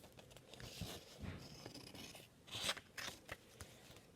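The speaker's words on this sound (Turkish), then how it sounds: "Bir de makasla kesmeniz lazım." Scissors snip through paper in a few crisp, irregular cuts, close and quiet, with faint rustling between them.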